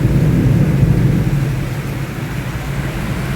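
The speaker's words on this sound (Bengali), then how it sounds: "মেঘ ডাকছে তেমনি।" Heavy rain pours steadily outside a house with a continuous low rumble of thunder underneath, a dense, even roar with no pauses and no voices.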